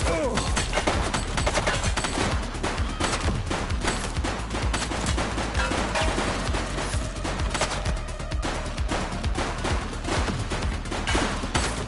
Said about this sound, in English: He's running! He's shooting!